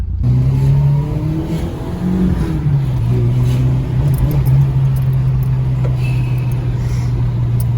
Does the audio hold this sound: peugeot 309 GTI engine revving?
yes